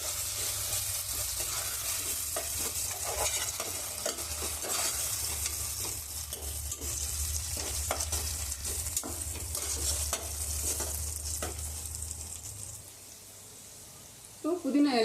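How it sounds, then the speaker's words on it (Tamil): Ginger garlic paste and tomatoes sautéing in a pan for prawn biryani, with a steady sizzle, repeated stirring scrapes, and a low hum underneath, ending in a short clatter. "இஞ்சி பூண்டு பேஸ்ட் போட்டு வதக்கும் போது அடுப்பை கொஞ்சம் சிம்மில் வச்சுக்கலாம்"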